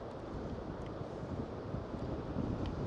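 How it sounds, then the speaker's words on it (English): Wind buffets and rumbles across the microphone in a steady, blustery roar on sandy ground in Dublin, with no talking. "It's very windy"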